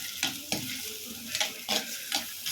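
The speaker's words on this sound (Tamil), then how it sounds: "வெங்காயம் கருவேப்பிலை போட்டாச்சு. இதை நல்லா வதக்கி விடணும்." Onions and curry leaves sauté in a pan with a bright crackling sizzle, punctuated by several quick stirring scrapes in an irregular rhythm, close up and with no voices.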